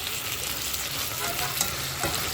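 Broccoli frying in a hot pan, a dense, continuous sizzle with a bright crackle that holds steady close up, without voices, with a small clink near the end.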